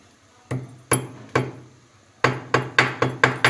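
Cloves pounded into a coarse powder with a pestle for an immunity-boosting drink, giving sharp, close knocks: three spaced strikes, then a quicker run of about six, with no talking.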